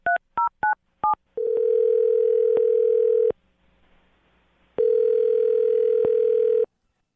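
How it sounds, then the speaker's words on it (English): A string of DTMF keypad tones as a phone number is dialed, followed by two long, loud steady ringback tones separated by a quiet gap, a call being placed for a radio prank phone call. "I'm going to dial him right now, get him on the phone"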